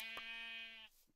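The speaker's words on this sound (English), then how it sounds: "Oh, another sheep." A single sheep bleats once in the Minecraft video game, a short, clear, nasal bleat that holds steady for under a second before cutting off, with nothing else around it.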